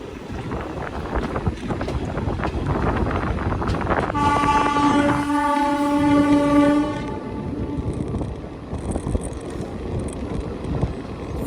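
A passenger train hauled by a blue diesel locomotive rumbles steadily past in a forest setting, with a loud sustained horn blast in the middle over the continuous wheel and wind noise.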